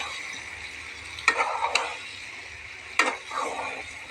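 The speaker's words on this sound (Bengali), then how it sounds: "পটলটাকে দিয়েছি, এখন আমি আবার ভালো করে কষিয়ে নেব।" Pointed gourd sautéing with a pangas fish head gives a low background sizzle, with two distinct bursts of a spatula stirring and scraping the pan.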